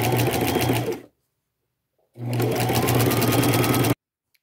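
A sewing machine hums loudly in two rapid, even bursts of stitching as a folded half-inch fabric edge is hemmed for a patchwork skirt, separated by a second of silence.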